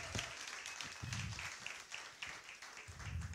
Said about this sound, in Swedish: Vilken rockstar-känsla, vilken applåd,